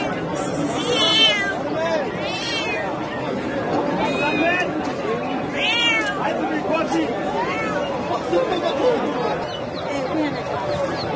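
Young Persian kittens and other cats meow again and again at a crowded Iraqi pet market, sharp, close mews rising over steady chatter and people talking.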